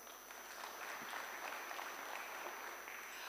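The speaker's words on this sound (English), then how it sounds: "Another round of applause for that." An audience at a panel session applauds with steady, even clapping that stays fairly quiet and sounds spread through the room for a few seconds.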